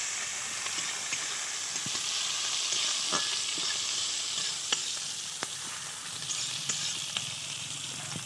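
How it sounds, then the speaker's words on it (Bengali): Chopped onion and green chillies fry with black cumin seeds, a steady close sizzle and hiss with scattered small pops and spatula scrapes against the pan, no voices. "একটু পেঁয়াজ কুচনো দিয়ে দিলাম, দুটো কাঁচা লঙ্কা দিয়ে দিলাম। এটা একসঙ্গে একটু ভেজে নিতে হবে।"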